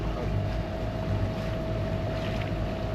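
Sailboat engines run with a steady, droning motor hum over continuous wind noise on open water near cliffs, constant and unbroken throughout.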